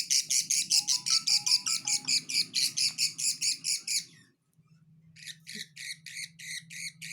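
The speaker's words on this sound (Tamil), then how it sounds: "ஹாய் ஃப்ரெண்ட்ஸ், எங்கள்கிட்ட 4 லவ் பர்ஸ் குஞ்சு பொரிச்சிருக்குது." Four newly hatched lovebird chicks, about two weeks old and still without feathers, cheep close by in fast, rhythmic high peeps that stop for a moment and then start again just as steadily.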